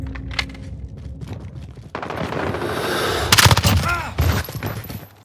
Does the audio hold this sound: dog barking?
no